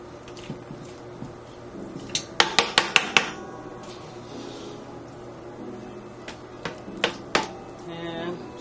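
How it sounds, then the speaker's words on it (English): Dollops of ricotta cheese land in a mixing bowl for a ground turkey lasagna, giving a cluster of sharp spoon-on-bowl clinks and scrapes near the start, then a few more knocks later against a quiet kitchen background. "to this bowl, I'm adding my ricotta"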